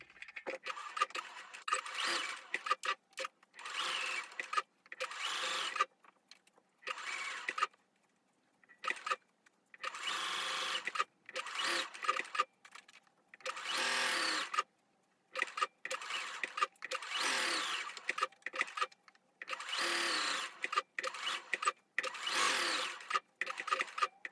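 A sewing machine stitches around the edges of a fabric gift tag in repeated bursts of a second or two, separated by short pauses, close and fairly loud with no voices.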